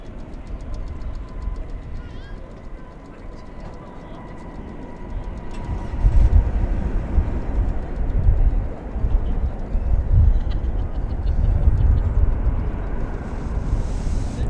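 An American Airlines jet arriving at DFW airport from Sacramento rumbles in, a broad low roar that swells from about the middle onward and stays loud and sustained, with faint background noise.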